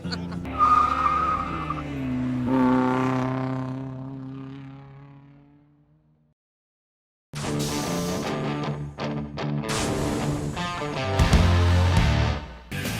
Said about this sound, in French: Bienvenue à la course des 60 tours